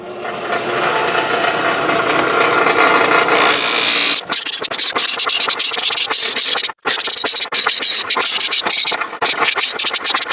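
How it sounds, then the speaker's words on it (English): A loud drill press whirs continuously while a bass guitar neck is sanded against it, with grinding and brief pauses as the pressure shifts. "I'm gonna go back to the drill press and keep sanding it."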